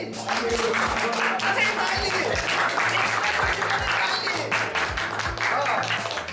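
A church congregation applauds, sustained clapping from a crowd with a regular low thudding beneath it and a voice talking over the applause.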